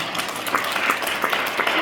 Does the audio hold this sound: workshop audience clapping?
yes